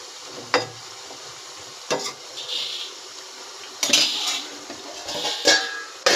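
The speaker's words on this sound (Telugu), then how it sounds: "ఇక్కడ చికెన్ బాయిల్ అవుతుంది ఫ్రెండ్స్. ఒకసారి ఇది కూడా మిక్స్ చేసుకుందాం మనం." Chicken curry boiling in a pot is stirred, giving a few separate bursts of metal spoon scraping and clinking against the pot over a soft simmering sizzle, with no talking.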